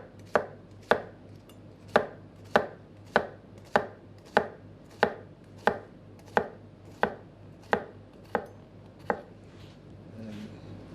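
A knife slices through food on a cutting board in evenly spaced strokes, about sixteen sharp close taps at a steady rhythm, with no talking.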